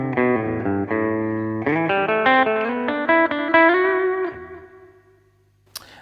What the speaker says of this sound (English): this is a reverb plus delay